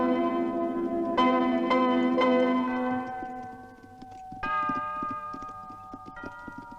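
Horses' hooves clip-clop in a steady rhythm under ringing, bell-like tones that strike and sustain, the hoofbeats continuing as a dense patter throughout.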